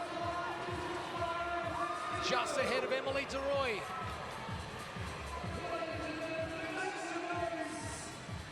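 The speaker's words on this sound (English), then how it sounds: "This crowd getting quite vocal" Vocal crowd cheering at a women's CrossFit competition, a continuous roar of spectators that swells midway, heard under an announcer's commentary.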